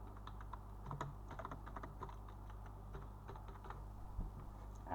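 Steady typing on a computer keyboard while entering map symbol labels for a 1:50,000 topographic map, with quick soft clicks in an irregular rhythm, close and continuous, with no voices.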